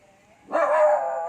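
A single short bark or yip from a small dog rings out after a brief quiet moment, bright and fairly close, with no talking over it.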